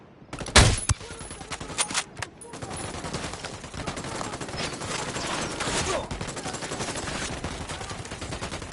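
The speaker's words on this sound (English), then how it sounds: "I'm opening fire." Gunfire in a PS4 video game: a sharp opening shot, then scattered bursts and a steady stream of rapid automatic fire, loud and close, over a dense noisy background.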